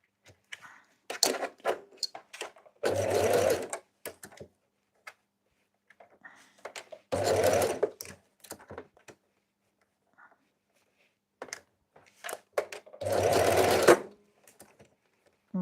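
A sewing machine runs in three short bursts of stitching on a scrunchie, separated by quieter handling clicks and rustles.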